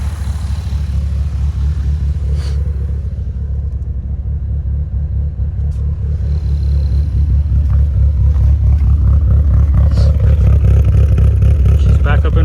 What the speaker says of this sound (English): She's back up and running.